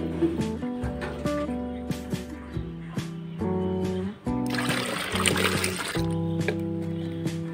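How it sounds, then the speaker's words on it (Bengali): Water is poured into a homemade fertilizer mixture for marigold plants, a short splashing gush under louder background music. "এতে আমি হাফ পরিমাণ জল দেব।"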